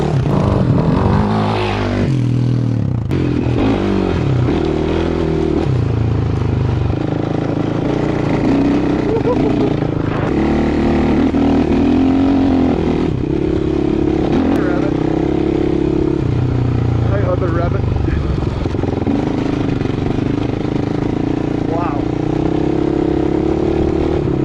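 A 2008 Suzuki LT-R450 Quadracer quad runs close by, its engine holding a steady loud drone with small rises and dips, while a voice talks over it throughout.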